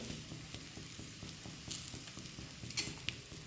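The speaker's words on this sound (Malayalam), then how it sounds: "നമുക്ക് നന്നായി വറുത്തെടുക്കാം" Grated coconut with curry leaves and onion roasting in an iron pan, giving a steady, soft sizzle with light scraping and a couple of faint clinks, no talk.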